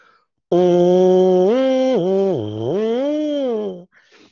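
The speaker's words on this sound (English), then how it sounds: "you put it up to your mouth and you actually buzz your lips together through the instrument." A buzzing, reedy lip tone blown into a brass mouthpiece, sustained for about three seconds with the pitch dipping and sliding, loud and close, alone.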